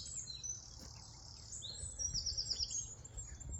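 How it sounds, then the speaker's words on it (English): A wren sings on a wooded path up Glastonbury Tor, its quick high trilled phrases rising over quiet outdoor ambience, with other birdsong around and no talking. "That's a beautiful wren song."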